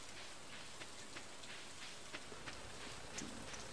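Soft, steady rain patters on a rainy day in the farming game Stardew Valley, a faint continuous hiss dotted with small droplet ticks and no voices.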